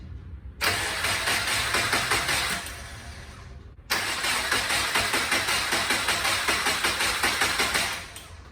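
An engine cranking on its first start attempt, a rapid rhythmic whirring churn that runs steadily for a few seconds, pauses briefly, then cranks again in another long, even burst, loud and close.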